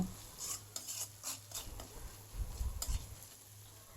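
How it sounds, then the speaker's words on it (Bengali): Sponge gourd being stirred and fried in a pan, with scraping utensil strokes and a low sizzle close by in a home kitchen. "এটা ধুন্দুলটা দিয়ে ভালো করে ভাজি করে নিব"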